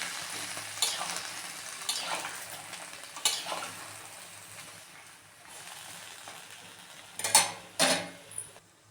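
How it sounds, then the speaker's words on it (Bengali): A spicy-sour jujube pickle simmering and being stirred in a pan after water is added, with a low bubbling sizzle broken by several sharp scrapes and clinks of a spoon, close and fairly quiet. "এবার আমি এখানে একটু জল দিয়ে দিচ্ছি এটাকে সেদ্ধ হওয়ার জন্য"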